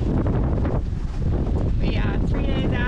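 Steady wind buffeting a microphone outdoors, a constant low roar throughout, with faint higher whistling tones near the end.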